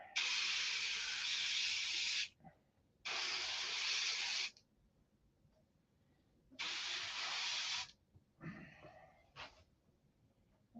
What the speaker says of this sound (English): Now this airbrush will put a line down about the size of a hair.